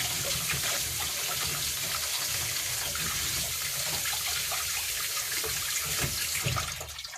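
Vegetables, including cauliflower, washed under a running tap: a steady, close rush of water splashing over produce, tapering off at the end.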